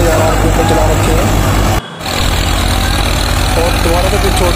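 Massey 245 and Swaraj 744 tractors run 7 ft rotavators through a field, a loud, steady diesel drone with churning mechanical rumble, briefly dipping before resuming, with someone talking over it.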